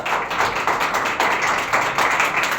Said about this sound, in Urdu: آئیے زوردار تالیاں بجائیں گے اپنے کلام کے لیے.